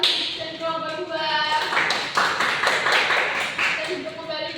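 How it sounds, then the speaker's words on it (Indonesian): A classroom group applauds student group representatives with scattered, uneven clapping that rises and fades in bursts, while musical tones and voices sound alongside. "kita beri tepuk tangan untuk perwakilan kelompok 1 dan kelompok 2"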